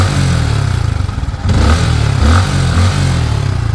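Close, loud revving of a Sniper 155 motorcycle engine, dipping briefly then surging again, with a rattling vibration clattering through the low throb.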